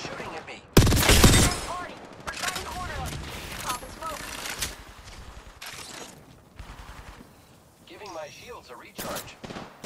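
Video game gunfire from enemies shooting at the player, with a loud burst of rapid shots near the start and scattered bursts afterward, mixed with game voices and other effects.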